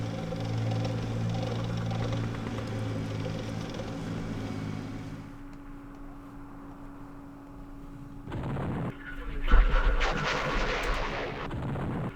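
Artillery guns firing in the Campaign Series East Front video game, with a low hum giving way to a quieter stretch, then a heavy booming blast with a rumbling aftermath near the end.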